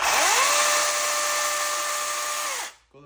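An INGCO cordless battery saw (model CGSLI40168) whirs up quickly to a loud, steady high-pitched motor whine, holds for about two and a half seconds, then cuts off abruptly.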